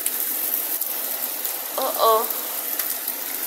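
Heavy rain pours down with a stream of water rushing along the street, a steady broadband wash throughout; a brief voice exclamation cuts in near the middle.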